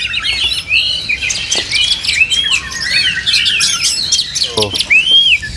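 Songbirds kept at a bird market kiosk sing in busy, overlapping chirps and trilling phrases, close and lively throughout, with faint background activity beneath.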